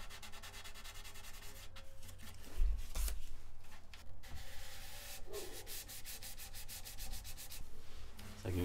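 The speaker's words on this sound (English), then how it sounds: "Go with the grain, use a sharp piece of sandpaper, light pressure, and just move quickly as you're going" Sandpaper is rubbed quickly along the grain of a guitar body's wooden top under light pressure, making a close, continuous scratchy hiss with brisk back-and-forth strokes.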